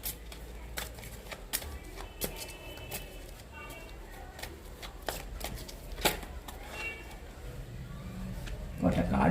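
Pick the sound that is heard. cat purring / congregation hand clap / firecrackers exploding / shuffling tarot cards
shuffling tarot cards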